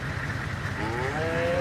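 Cow in the video game DayZ giving a single drawn-out moo that rises and wavers, moderately near, over a steady low outdoor rumble.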